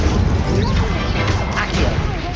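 An Incendio fire spell cast in Hogwarts Legacy, a loud continuous crashing whoosh of spell impact with dense rumbling low end, filling the short moment without pause.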